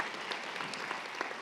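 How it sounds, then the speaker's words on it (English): Brief burst of audience applause at a spring convocation ceremony as a newly graduated doctor leaves the stage, steady dense clapping at moderate level throughout. "One more round of applause for Dr. Adcock as she exits the stage."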